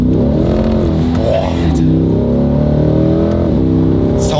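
A Corvette C8 engine, roof open and in manual mode, revs and accelerates up through the gears, loud and close, with a deep throaty roar and brief shifts between pulls.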